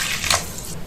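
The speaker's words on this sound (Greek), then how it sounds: "Θα προσθέσουμε νερό, 400 γραμμάρια νερό" Room-temperature water is poured into sourdough starter in a small bowl for a traditional Kimolos olive-oil focaccia, giving a brief, close, wet splashing gush under a second.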